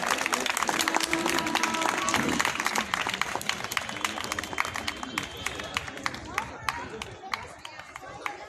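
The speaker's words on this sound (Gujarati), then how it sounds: "તાળીઓ પાડજો બાળકો" Children clapping at a school sports day prize distribution, a dense sustained burst of applause from a crowd of kids that thins and fades toward the end, with voices murmuring underneath.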